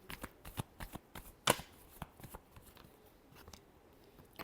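Tarot cards being shuffled up close in a series of crisp, papery riffles and taps, one sharper snap near the middle, quiet and without talk.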